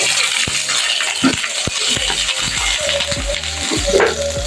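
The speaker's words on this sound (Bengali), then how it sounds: "আমি টমেটো একটু ভেজে দিচ্ছি।" Tomatoes fry in oil in a pan, giving a continuous sizzle with clinks and scrapes of a utensil against the pan throughout.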